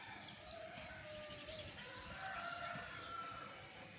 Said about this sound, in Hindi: सुबह सुबह इतनी प्यारी चिड़ियों की आवाज़ हर तरफ, चहचहा चिड़ियों की